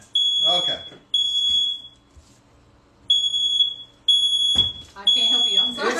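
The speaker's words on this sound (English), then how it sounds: "It's a new alarm, a smoke detector." A new smoke detector blares in loud, piercing bursts, sounding in several separate blasts with short gaps, while people talk between and under the alarm.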